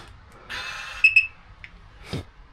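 A quick pair of sharp electronic beeps from a new Can-Am vehicle rings out over a low background hum, followed moments later by a brief clunk.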